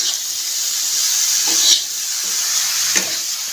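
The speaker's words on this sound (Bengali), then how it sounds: "আস্তে আস্তে জল দিয়ে ভাজতে হবে।" Snake gourd frying in a pan with a little water, a steady close sizzle and hiss running throughout, with a few soft stirring clicks and scrapes.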